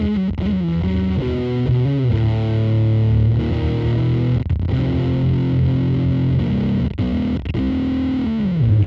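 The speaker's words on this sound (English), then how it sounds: "The pedal almost sounds like it's kind of broken, kind of dying, or like it's sagging or not getting enough power." An electric guitar runs through the gated side of a Fender fuzz pedal, giving a loud, sputtery, broken-sounding fuzz with sagging notes, gated cutoffs and wavering bends played continuously without talk.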